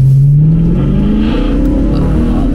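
A BMW M3 E92 with an Akrapovic exhaust, running in sport mode, gives a loud, close engine drone whose pitch rises steadily as it accelerates, with no talk over it.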